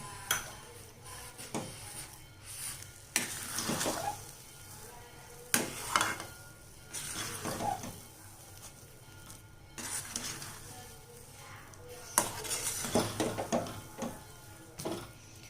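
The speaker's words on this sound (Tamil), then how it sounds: "ஒரு 4 ஏலக்காய் சர்க்கரை வச்சு அதை சேர்த்து கிண்டி விட்டுக்கலாம்" Sugar and crushed cardamom are stirred into rava puttu in a pan, giving intermittent scraping and clattering bursts of utensil on pan with quiet pauses between, close and fairly soft.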